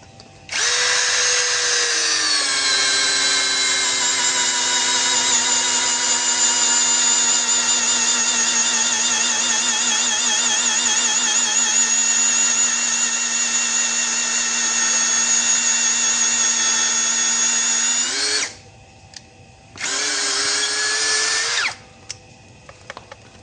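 An AST 48 brushless 13 mm drill runs at speed 1 with a steady, loud motor whine for about eighteen seconds, then stops briefly and gives one short second burst near the end.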